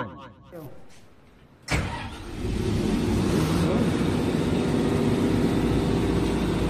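Generator engine cranking and catching after a short countdown, then settling into a steady, loud running drone that fills the rest of the clip; voices are heard briefly before the start.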